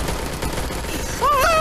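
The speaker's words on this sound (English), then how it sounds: "Gunshots! Fired!" Dense burst of gunfire in a tense confrontation, rapid overlapping shots filling the first second and more, then a raised voice shouting over the tail end.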